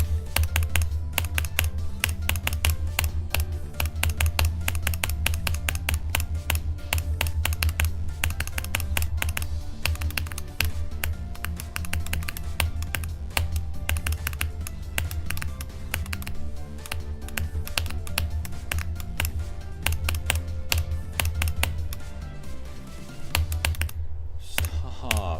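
Constant rapid clicking of a computer keyboard during a Geometry Dash session, dense and fairly loud throughout, with a steady low hum underneath and no talking.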